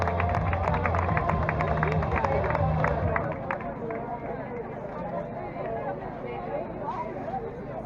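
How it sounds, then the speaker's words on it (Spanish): A crowd at a women's 10K race awards ceremony in Valencia claps and cheers for the category winners, loud dense applause that fades after a few seconds into background murmur and chatter. "Aplauso para ellas."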